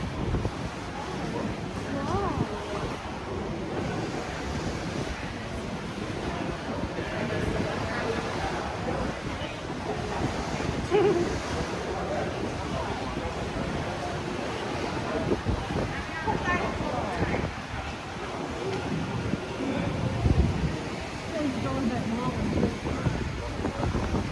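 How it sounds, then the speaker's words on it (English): Strong wind buffets a tour boat on the San Antonio River during a December cruise, a constant roaring gust noise against the microphone, with a guide talking over it throughout. "This is also the wind channel where there's a whole bunch of wind and it kind of swings the boat around."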